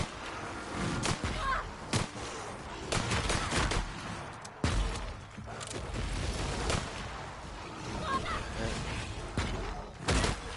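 Gunfire in The Outer Worlds, a string of sharp shots spaced unevenly over a busy background of combat noise, some cracks loud and close, others softer.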